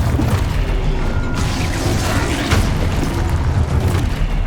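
A loud, sustained explosive boom from the Expulso blast spell in Hogwarts Legacy, rumbling continuously with crashing debris and bursts throughout, with no talk.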